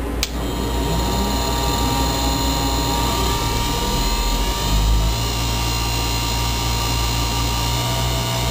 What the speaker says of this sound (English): I'm going to see if I can demonstrate just how much air is already moving through this motor